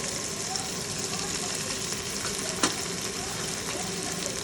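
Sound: vegetables roasting in a pan for pav bhaji

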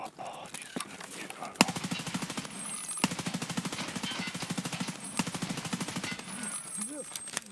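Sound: gunshots in video game Escape From Tarkov

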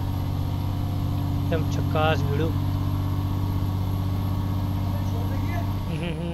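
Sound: Indian truck engine idling in Euro Truck Simulator 2 (video game)

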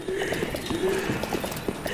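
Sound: horse hooves clip-clopping in video game

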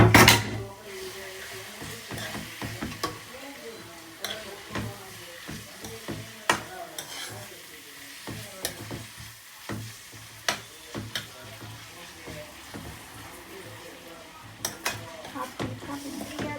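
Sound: beetroot sautéing and being stirred in a pan for undhiyu

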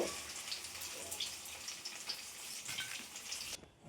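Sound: paneer frying in oil

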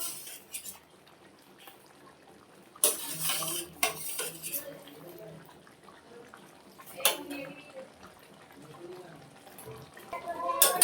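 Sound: beaten sour curd added to pan for doi katla

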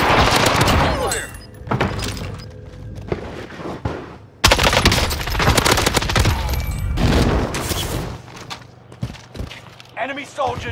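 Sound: gunfire in the video game Warzone

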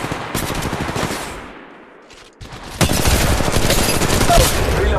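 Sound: gunfire in the video game Apex Legends

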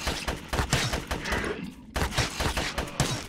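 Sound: assault rifle gunfire in the video game GRAV

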